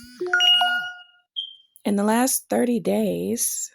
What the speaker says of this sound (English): try to turn off these notifications